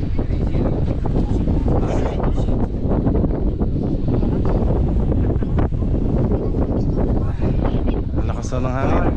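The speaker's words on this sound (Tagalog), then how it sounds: "Lakas ng hangin." Strong wind buffets a boat out on the water, a loud, continuous rushing roar that fills the whole clip, with people talking over it.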